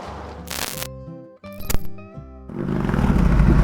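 A customized Buell S1 Lightning motorcycle with performance upgrades starts and pulls away, a brief mechanical clatter and starter whir before the engine catches and settles into a loud, steady rumble close by.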